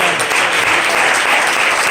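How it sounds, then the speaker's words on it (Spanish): Evangelical church audience applauding during a sermon, a loud, continuous and even roar of clapping from a large crowd, filling the whole short stretch with no pauses. "Denle un aplauso"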